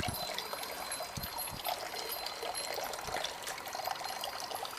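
Water is poured out steadily in a continuous splashing rush, with a few dull thuds mixed in and no speech.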